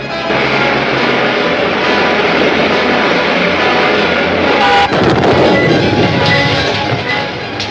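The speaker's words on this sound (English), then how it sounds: "Keep firing!" Naval guns firing from a warship during a battle in an old black-and-white movie, a dense, loud continuous barrage of booms and rumble with a heavier blast burst midway, no talk over it.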